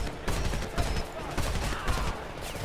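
Rapid gunfire in the Homefront video game, with dense overlapping bursts of shots crackling in a steady barrage and faint voices mixed in beneath the firing.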